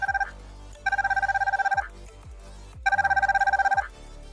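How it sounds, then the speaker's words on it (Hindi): A KW39 Max smart watch beeps from its find-device alert, three bursts of rapid repeated electronic tones with short pauses between, loud and close. "तो 3 से 4 दफ़ा बीप हो रही है और फाइंड वॉइस का जो है वो नोटिफिकेशन भी आ रहा है"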